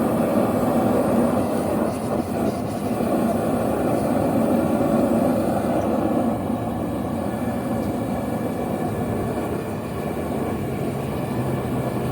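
A steady, broad roar of a two-burner propane forge runs throughout, loud and close, with a dense low rumble that never lets up.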